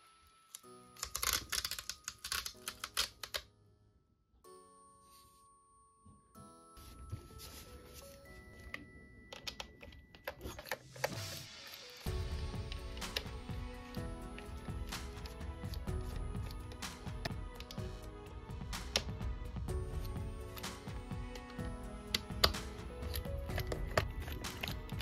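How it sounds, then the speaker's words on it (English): A screwdriver works loose screws from the base of an LG XBOOM GO PL7 speaker with its rubber grip pad removed, giving close, dry clicks and ticks in irregular bursts against a quiet background, followed by a denser stretch of scraping handling noise. "There is this rubber grip pad that we will take off to expose 7 screws that will need to be removed."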